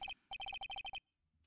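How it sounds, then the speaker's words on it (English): Cell phone ringing in the Ace Attorney: Trials and Tribulations video game, a rapid electronic trill of short bright beeps in two quick bursts, clear and close, then falling silent. "Hey, Nick, your cell phone's ringing"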